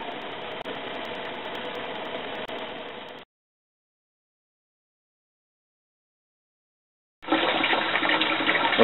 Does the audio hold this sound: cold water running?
yes